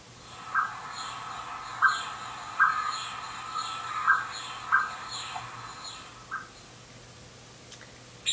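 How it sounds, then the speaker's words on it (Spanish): A recorded common blackbird sings in clear, separate phrases, about eight bright notes spaced irregularly over several seconds, heard alone against a quiet, faintly humming background. "El pájaro que tenéis ahora mismo en pantalla es un mirlo y suena así."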